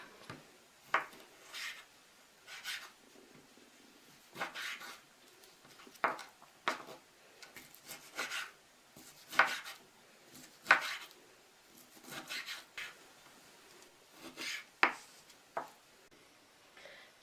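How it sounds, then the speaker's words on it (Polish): Smoked bacon being sliced into smaller pieces with a knife on a cutting board, a series of short, quiet cutting strokes in an irregular rhythm, close by, with no talking. "I teraz boczek pokroję na mniejsze kawałki bo będę go mieliła."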